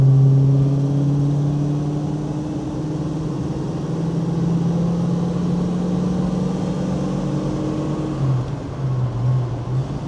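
A 1970 Mustang Mach 1 with a 351 Cleveland V8 and four-speed accelerating on the road, a loud sustained engine drone climbing steadily in pitch, heard from inside the car.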